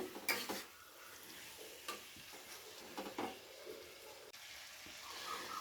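Chicken garlic roast gravy stirred in a pan, faint sizzling with intermittent scrapes and knocks of a spoon against the metal, quiet and close.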